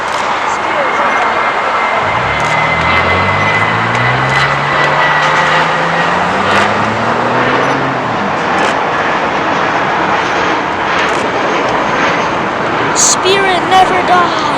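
A Spirit Airlines jet on the runway gives a loud, steady engine roar with a rising and falling whine, heard from nearby at an airport with people talking over it.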